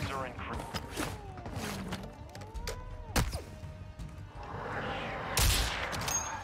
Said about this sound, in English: Like, they're shooting me through the bridge.